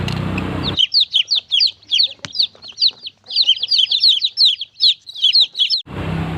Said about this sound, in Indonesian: Ada anak ayam.